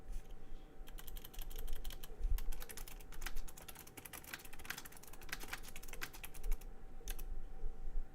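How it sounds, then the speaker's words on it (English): Quick bursts of typing on a computer keyboard, irregular runs of close, crisp key clicks with brief pauses between, recorded on a quiet tabletop RPG session stream. "Typing something into the chat real quick."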